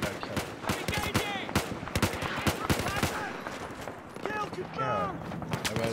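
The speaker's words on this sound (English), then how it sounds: "They're shooting him." Gunfire in the Battlefield 4 campaign, dense bursts of close shots and automatic fire crackling steadily over several seconds, mixed with overlapping voices and game effects.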